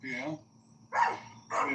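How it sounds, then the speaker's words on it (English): A rescue dog gives three vocal bursts, barking and yipping in a talkative way, close by and spaced across the moment, with people chatting around it. "Great dog."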